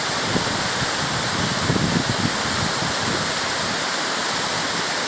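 Gürgüre waterfall at Yukarı Civanlı village during a rappelling descent: a loud, constant roar of falling water fills the clip, with faint low thumps and splashes beneath it.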